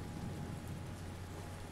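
Heavy rain in the video game Walking Dead, a steady dense hiss with a low rumbling undertone, continuous and even throughout with no voices.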